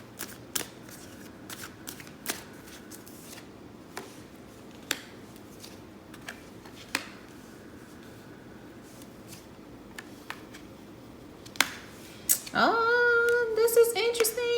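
Tarot cards shuffled by hand before a psychic reading: scattered soft flicks and taps over quiet room tone, then a denser, continuous riffle of cards near the end, close and moderately loud.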